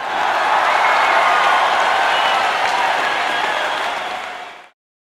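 A loud, dense crowd roar of cheering fills a live show in the Project Sekai game story, holding steady for several seconds before cutting off abruptly.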